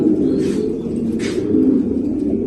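A male racing pigeon cooing close by, a low throaty rolling murmur that continues throughout, with faint rustling in the background.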